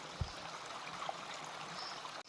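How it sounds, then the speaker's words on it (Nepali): A mountain stream runs down from higher ground over stones and soil, giving a steady, even rush of flowing water that fills the whole clip without any voices. "अनि यो माथिबाट खोलाएर आउँछ होइन।"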